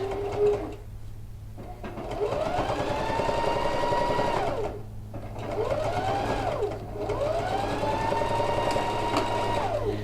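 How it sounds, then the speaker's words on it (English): Sewing machine stitching down a seam on a quilted coat: three runs of rapid, whirring mechanical stitching, close and steady, with short pauses between them. "then I'll just stitch down that seam"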